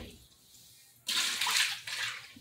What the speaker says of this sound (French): On va rincer chaudière là.